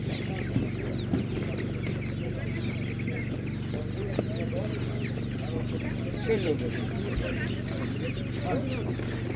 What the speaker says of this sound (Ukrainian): Ось такі класні півники.